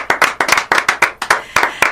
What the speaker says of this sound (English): I'd like everybody here to give David a round of applause for what he's done for this community.